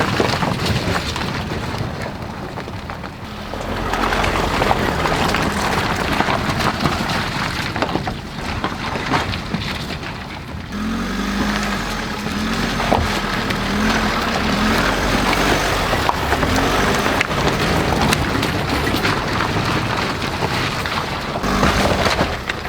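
A SsangYong Musso Rhino LWB pickup climbs a wet, muddy green lane in two-wheel-drive high. A steady, loud engine and driving rumble with cabin noise continues throughout, and no one speaks.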